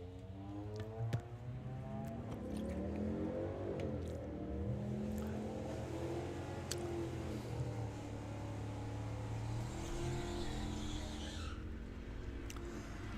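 Cars at a national finals drag race, a Camaro running the strip: a continuous loud roar of engines with revving and tire noise, steady throughout with no talk.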